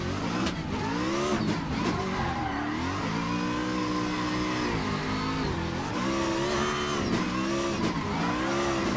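An RTR Mustang drifts in the racing game Assetto Corsa, its engine revving hard and continuously with pitch swinging up and down as the throttle is worked, loud and close with no talking.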